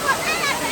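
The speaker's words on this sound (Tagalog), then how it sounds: "Umaambon dito. Tinatamaan kami ng tubig." Mist and water spray fall on visitors at a Singapore attraction, a continuous close hiss of rushing water with voices talking over it.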